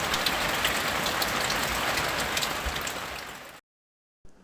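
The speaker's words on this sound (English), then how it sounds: "there we seemed to cop quite a lot of rain" Heavy, steady rain hisses loudly for a few seconds, then cuts off abruptly into silence before faintly returning.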